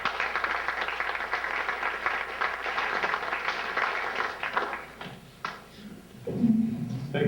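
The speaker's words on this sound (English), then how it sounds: "Have a round of applause for Mr. Lampert." An audience at a 2004 graduation and awards ceremony applauds a school superintendent, a broad wash of clapping that fades toward the end as a voice starts speaking.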